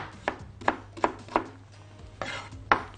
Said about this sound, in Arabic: وابدا ان انا اقطع البصل ايه مكعبات